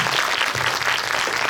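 An audience in a cinema auditorium at Lotte Cinema World Tower claps for a film guest event. The applause is dense and steady, loud throughout, with no talking.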